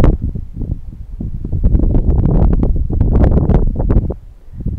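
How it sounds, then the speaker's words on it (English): Gusty wind at a lake dock on Walter F George Lake buffets the microphone, a loud rumbling roar that surges and fades in uneven bursts throughout. "Lucky wind."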